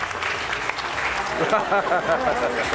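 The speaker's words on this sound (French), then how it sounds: "On l'applaudit, s'il vous plaît." An audience at a pickpocket stage show applauds steadily, a dense, moderately loud clapping with scattered voices and a little laughter underneath.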